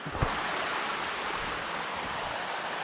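A small river or creek on a farm rushes steadily in a broad, constant wash of flowing water, close and moderately loud, with no talking over it.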